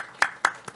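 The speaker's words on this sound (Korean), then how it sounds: "우리 잠깐 자리에서 일어나시면 우리 장로님 박수로 환영하겠습니다" A church congregation standing to welcome an elder with applause, heard as three separate sharp claps spaced evenly over less than a second, close and fairly loud in a quiet hall.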